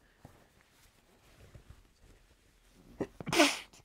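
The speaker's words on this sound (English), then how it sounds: "I'm going to sneeze." A single loud, close human sneeze bursts out near the end after a quiet stretch with light shuffling sounds.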